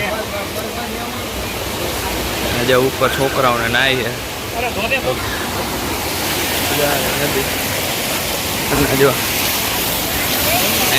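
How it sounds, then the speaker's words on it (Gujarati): A river flowing near a Mahadev temple at Girnar, Junagadh, makes a steady broad rush of water throughout, with people talking over it. "મસ્ત મજાની નદી હેલી જાય છે"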